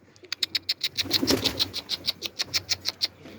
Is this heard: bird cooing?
yes